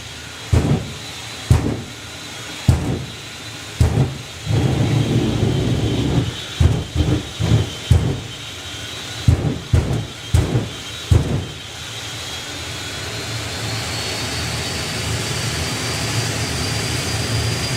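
Jet turbine of a drag racing vehicle at a doorslammer drag event spooling up, a rising sustained whine and roar building toward the end, preceded by a series of loud rhythmic bursts and thumps.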